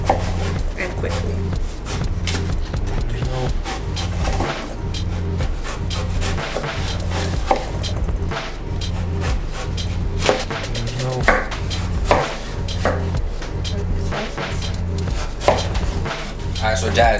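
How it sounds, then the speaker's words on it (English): A knife slices apples thinly on a board for a galette, giving a steady series of soft cuts and taps beneath ongoing kitchen noise and faint background voices. "now we're just gonna make thin slices because this is what we're gonna use for the galette"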